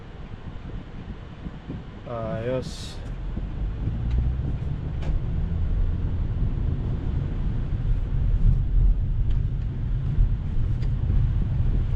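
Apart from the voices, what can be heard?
Tesla truck driving past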